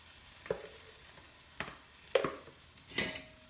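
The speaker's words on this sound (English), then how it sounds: "I just flipped it, and now I'll let it cook on the other side." Pan-frying of a plant-based eggless omelette after flipping, with soft sizzle punctuated by a few sharp spatula clinks and scrapes, spaced irregularly and close by.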